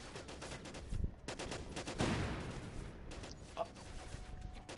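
Gunfire in the Syphon Filter Dark Mirror game on PS5, heard as dense, repeated bursts of shots over a few seconds with a louder crack near the middle, mixed with other game noise.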